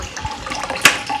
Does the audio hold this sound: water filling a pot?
yes